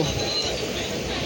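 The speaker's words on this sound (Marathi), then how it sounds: "आता आमची ट्रेन तुतारी एक्सप्रेस शेवटी निघाली दादरवरून" Steady rumble and clatter of the Tutari Express passenger train pulling out of Dadar, a continuous rolling noise with faint metallic squeal above it.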